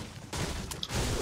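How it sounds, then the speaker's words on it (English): Burst of gunfire from a video game battle, a quick rattle of several shots at moderate distance, brief and unaccompanied by talk. "I hear shooting."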